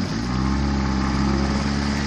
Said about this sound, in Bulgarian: Дай, бе, дай газ на този мотор, бе.